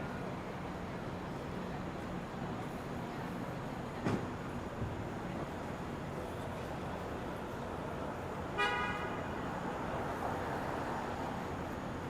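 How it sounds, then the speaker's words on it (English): Distant downtown Toronto traffic along Front Street West rumbles steadily while two short car horn toots sound, one faint and one slightly longer, far off. "And there's always one honk after the other."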